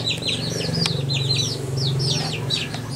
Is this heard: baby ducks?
yes